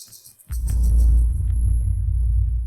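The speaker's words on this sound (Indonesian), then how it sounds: "Anginnya kencang banget." Strong wind roars in with a sudden loud low rumble about half a second in, then keeps blowing heavily and steadily, with quieter gusty noise before the onset.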